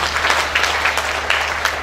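Congregation applauding for Jesus during a church sermon, a loud, dense burst of clapping from many people, steady with irregular louder spikes and a low hum beneath.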